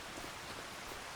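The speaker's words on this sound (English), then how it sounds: "but it's still raining" Steady rain falls in a dense, even hiss with no pauses, a continuous soft patter in a farming simulator game set on a farm with canola fields.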